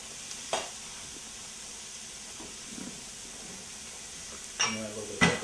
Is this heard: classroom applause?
no